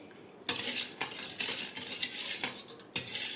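A spoon stirs sugar into a colostrum milk pudding mixture in a pot, giving loud, near scraping and clinking strokes in an irregular rhythm with no talk.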